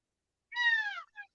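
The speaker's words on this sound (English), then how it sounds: "Yanny, you hear my cat over here meowing? My baby cat's over here meowing." A cat gives a clear, close meow followed by a short second chirp-like meow, alone in quiet surroundings.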